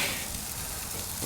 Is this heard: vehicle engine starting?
no